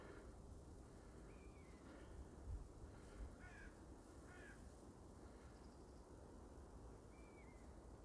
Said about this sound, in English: he got chased by a crow there